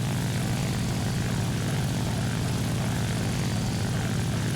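Engine drone of a German-marked IL-2 ground-attack plane (1942) in War Thunder arcade battles, a loud, unbroken propeller roar that holds steady from start to finish with no voices.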